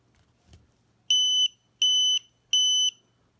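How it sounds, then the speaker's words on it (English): An RC car LiPo battery buzzer, a sub-3-gram alarm for 2S to 6S packs, beeps three times at a steady, evenly spaced rhythm, counting a 3-cell pack: sharp, loud, electronic tones after a faint click, with silence in between. "every time it will emit a sound that counts the amount of cells"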